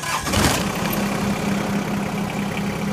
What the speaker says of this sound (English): just turn the key and it'll fire right up.